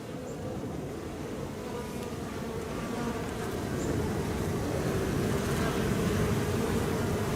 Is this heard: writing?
no